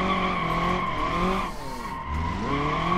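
Car tires screeching in a sustained, loud skid during a drift in the BeamNG.drive driving game, steady squeal with engine hum underneath, briefly dipping midway then resuming.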